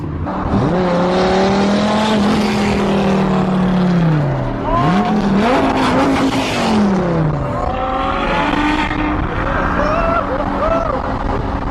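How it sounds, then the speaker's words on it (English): Supercars on a road thick with exotic cars, including a Bugatti, pass nearby with loud revving engines rising and falling in pitch, tyres hissing, and voices calling out over the roar. "The road is flooded with supercars."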